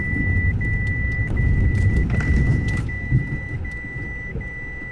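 A car climbs a steep 60–70 degree hill slope, its engine a steady, loud low rumble that labours continuously throughout with no talking.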